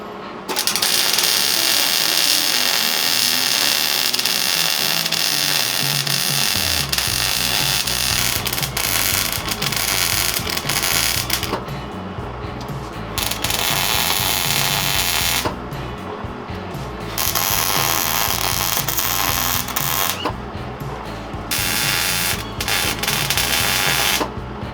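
Welding on a homemade trailer build, a continuous loud buzzing crackle running nearly the whole time with a few short pauses between passes and a low machine hum underneath.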